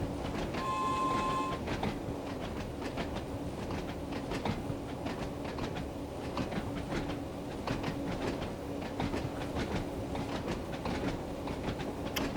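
A Class 166 train runs along the Isle of Wight line in Train Sim World 2, a steady rumbling cab drone with rhythmic rail clicks and a brief tone near the start.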